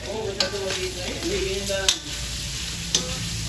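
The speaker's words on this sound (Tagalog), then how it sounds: "ako po ay nagpiprito na nitong kikiam" Kikiam and squid balls sizzle and crackle steadily in hot oil close by, with a few sharp clinks of stirring.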